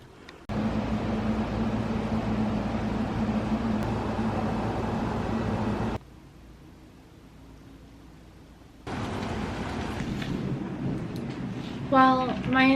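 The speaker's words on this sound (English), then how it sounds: "it's thundering and lightning and pouring outside" Heavy rain pours outside during a thunderstorm with thunder and lightning, a steady broadband roar that drops away briefly, then returns, with a voice starting up near the end.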